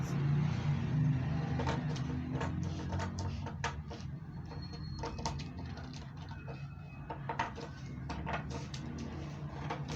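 Scissors cutting a paper dress pattern along a dart line, a quiet series of crisp snips and clicks in an uneven rhythm over faint background hum.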